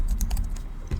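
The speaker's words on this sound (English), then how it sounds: "type in the URL" A computer keyboard clatters with quick, close keystrokes while a web address is typed in, a rapid uneven run of clicks with no voices.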